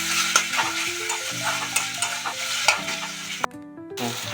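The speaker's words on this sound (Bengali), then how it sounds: "আদা রসুন বাটাগুলো একটু ভাজা হয়ে যাচ্ছে, এবার আমি টমেটো কুচি দিয়ে দেবো" Ginger garlic paste and chopped tomato frying in a pan, a steady close sizzle with repeated scraping strokes of a spatula and a sharp clink partway through.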